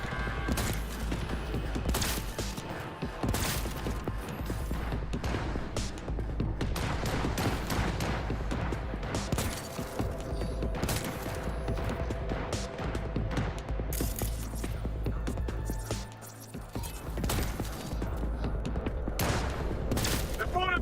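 Turrets firing in the video game Cyberpunk 2077, rapid bursts of mechanical gunfire rattling almost without pause amid battle noise, with voices talking over it.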